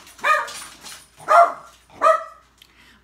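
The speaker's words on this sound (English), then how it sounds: "And now my dogs are freaking out." Dogs bark indoors in three sharp, close barks spaced about a second apart, loud and alone without talk.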